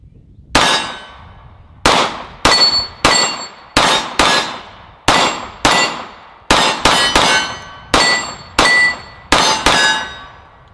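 A Sig Sauer P229 Legion pistol firing at a shooting range, about fourteen sharp, loud shots with ringing decay, spaced unevenly with some quick pairs, close by and without voices.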